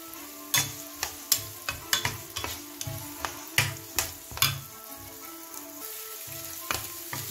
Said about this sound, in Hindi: पैन में तेल डालें। अब इसके अंदर चॉप किए हुए प्याज डाल दें